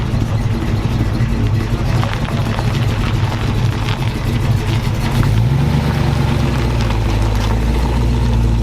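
A Chevrolet car arrives at a supercar meet, its engine a loud, close, low rumble that idles and then revs and deepens as it draws near, alone without talk.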